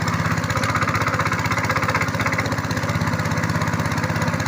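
A homemade home generator engine runs steadily close by, a continuous loud chugging drone with an even, rapid pulse and no pauses.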